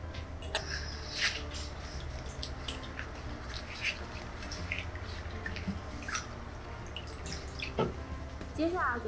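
Boiled alkaline-water zongzi rinsed under running water, a steady splashing wash with drips, close and continuous throughout.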